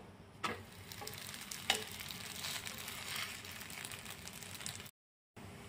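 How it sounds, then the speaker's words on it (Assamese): Lachha paratha dry-roasted in a pan with no oil, giving a steady soft sizzle with a few sharp clicks as the layered flatbread is flipped again and again, close up, with no talk. "এনেদৰে ওলট পালট কৰি পৰঠাটো ভাজি লৈ আছোঁ"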